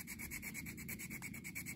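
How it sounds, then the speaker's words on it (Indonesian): Sandpaper rubbing back and forth over the concave inner underside of a wooden stick-model rubber-powered plane, a steady rhythmic scratchy hiss of repeated strokes, close and continuous with no talking. "kita amplas bagian ini sedikit, bagian dalam, bagian cekungnya"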